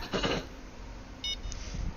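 A fishing rod bite alarm in the game Fishing Planet, set while bottom fishing for lake trout and burbot on White Moose Lake, gives a couple of short, faint electronic beeps over quiet background ambience.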